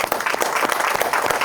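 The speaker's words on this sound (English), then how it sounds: "you should give yourselves a round of applause for that" A crowd claps at a community gathering about restoring the Ben Hur Building in Crawfordsville, dense and steady applause across a short stretch with no voices.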